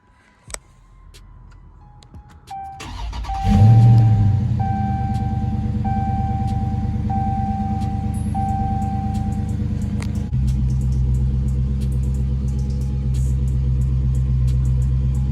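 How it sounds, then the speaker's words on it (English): A Dodge Challenger Scat Pack with the 392 V8 cranks over and fires near 3 seconds into a loud, deep rumbling idle that steps down in pitch around 10 seconds, steady to the end, with a faint ticking from the car's chime throughout. "let's go ahead and start up the Scat Pack"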